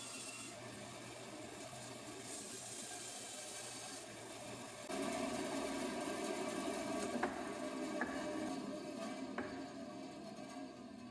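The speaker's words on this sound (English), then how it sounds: "I decided to cut 4 more leg pieces out of another untreated 2x4 board using my bandsaw" A bandsaw cuts an untreated 2x4 board into 1-foot leg pieces, giving a steady mechanical whir that gets louder and coarser about halfway through as the blade bites into the wood, with a few faint clicks near the end.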